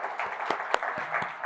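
A church congregation breaks into brief, moderately distant applause, a dense patter of many hands clapping for about a second and a half.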